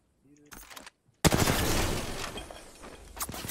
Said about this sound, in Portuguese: Tomando tiro.